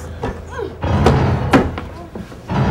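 A jammed door is shoved and banged during an earthquake duck, cover and hold drill, giving several heavy, irregular thuds and slams at close range, with a voice heard faintly between the knocks.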